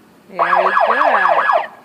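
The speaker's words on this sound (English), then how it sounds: "And there's the siren." A police siren wails in a rising and falling pattern for over a second, loud and close, with a horse nearby.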